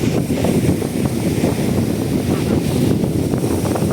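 Strong, steady wind roars and buffets the microphone outdoors on the water near a boat in the aftermath of a typhoon, a continuous loud rush with no pauses.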